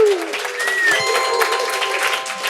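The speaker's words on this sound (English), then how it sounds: "Big audience applause." A game show audience breaks into applause after a correct answer, a brief, moderately loud burst of clapping heard alongside some tonal sounds.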